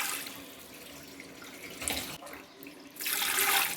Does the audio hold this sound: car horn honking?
no